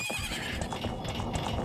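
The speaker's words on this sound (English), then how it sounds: "That's a good old horse we got there." In Zelda: Majora's Mask 3D, a horse gallops with quick, rapid hoofbeats while a whinny rings out. The sound stays close and steady with no talking over it.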